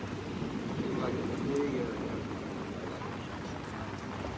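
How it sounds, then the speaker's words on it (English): Steady, dense tropical rain squall pours down outdoors in Barbados with a constant broadband hiss, a faint voice briefly audible underneath. "it is pouring rain outside"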